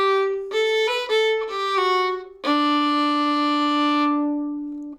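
A fiddle plays the second phrase of the B part of the old-time tune Going Down to Cairo: a few short bowed notes, then one long sustained note that fades, close and clear with no talking.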